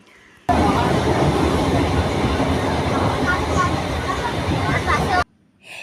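A passenger train running on rails through hilly plateau country gives a loud, steady rushing rumble heard from on board. The noise starts abruptly and cuts off just as suddenly after about five seconds.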